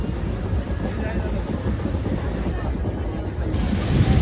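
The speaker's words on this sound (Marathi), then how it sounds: "आज वारा खूप आहे आणि वारा जास्त असल्यामुळे बोटी फार वेगाने पुढे पुढे जाताना दिसतात." Strong wind and surf roar steadily around a traditional wind-powered sailing boat race off Agrav near Alibag, a dense, loud, continuous rush that swells slightly toward the end.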